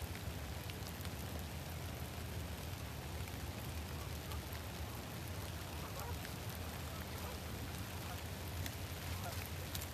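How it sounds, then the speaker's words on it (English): Steady heavy rain hisses and patters continuously on surfaces, a dense, unbroken wash of noise at moderate level with faint scattered drops. "Now it's really raining."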